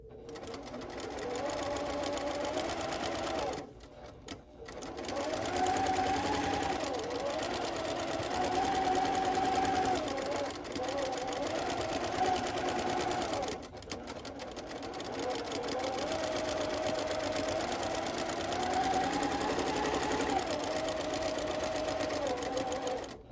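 A sewing machine stitches a pillowcase seam in several steady whirring runs, each broken by short pauses, close and fairly quiet with no talk over it.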